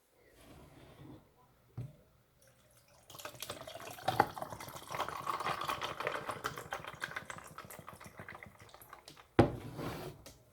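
Hot tea is poured in a steady, faint trickle lasting about six seconds, preceded by a few light clinks and knocks and ending with a sharp knock, as if a cup or pot is set down.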